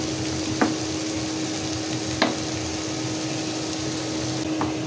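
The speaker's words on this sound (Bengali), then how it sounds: "একটু ভালো করে আমি নেড়ে ছেড়ে জিরাটা ভেজে নিব" Cumin seeds fry in hot oil for a masala, a steady close crackling sizzle broken by about three sharp clicks of a spoon stirring them around the pan.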